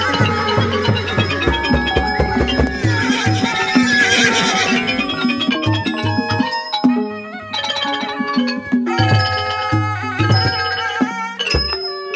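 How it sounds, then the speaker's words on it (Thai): A startled horse neighs in a Thai puppet theatre performance, a loud, sustained whinny over dense, continuous accompanying sound. "เจ้าใช้เล่ห์กลจนม้าข้าตื่นเยี่ยงนี้"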